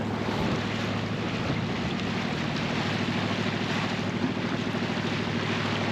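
Sailboat motoring under engine on a calm sea, a steady low mechanical drone with continuous wind and water wash over it, fairly close and unbroken, no talking.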